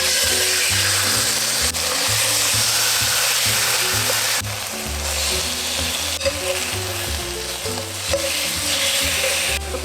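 Marinated chicken pieces fry in hot cooking oil, giving a loud, steady crackling sizzle with occasional stirring and clatter of utensils in the pan, continuous throughout without any talking.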